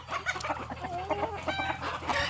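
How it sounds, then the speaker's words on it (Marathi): Free-range village chickens clucking on a country poultry farm, a busy overlapping chorus of hens close by with steady background noise and no talking. "आता आपले प्युअर गावठी पक्षी आहेत"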